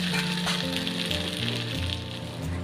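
Kayyappam fries in oil in a pan, giving a steady, close, dense sizzle that runs without a break and with no talk.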